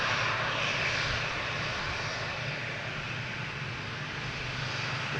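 A United airliner arriving from Newark lands at Boston Logan Airport, its engines a steady broad roar heard from a distance, continuous and without talk.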